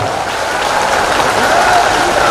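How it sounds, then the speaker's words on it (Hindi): Dense, loud applause from a large crowd at a Bageshwar Dham religious gathering, sustained and even throughout as a welcome. "जोरदार ताली बजा करके स्वागत करो।"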